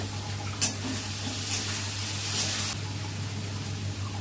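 Onions dropped into hot oil in a pan with bay leaves, a steady hiss of frying with a few soft clatters, a brief brighter burst of sizzle midway, no speech.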